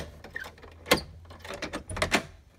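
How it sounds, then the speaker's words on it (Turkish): A door in an old house is worked open, with a series of close metallic clicks, rattles and latch clunks from the handle and lock, and no voices. "Nasıl açıyor bu kapı be?"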